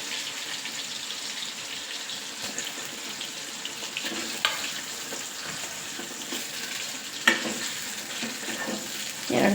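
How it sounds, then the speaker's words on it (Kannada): Chicken pieces for an Andhra-style spicy chicken pickle fry in hot oil with a steady, close hiss of sizzling. A few sharper clicks and pops break through, and no one speaks. "ಈಗ ಎಣ್ಣೆ ಕಾದಿದೆ, ಅದರಲ್ಲೆಲ್ಲ ಕರ್ಕೊಂಬಿಡೋಣ"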